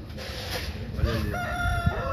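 A rooster crows on a farm while chickens cluck nearby, the crow rising clearly over a busy background of fowl sounds, with a faint hint of voices.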